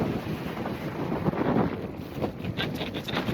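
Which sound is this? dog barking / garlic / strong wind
strong wind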